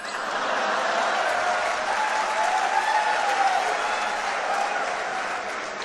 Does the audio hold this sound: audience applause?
yes